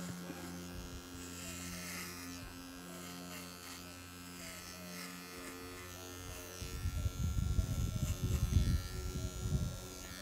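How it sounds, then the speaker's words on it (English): An electric clipper trims the hair on a horse's ear, a steady close buzz that grows louder and rougher toward the end, with a person talking quietly over it. "So now you need to be cautious to hold the clipper straight"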